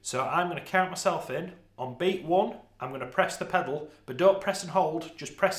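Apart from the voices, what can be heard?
No distinct noise like a dog, phone or traffic.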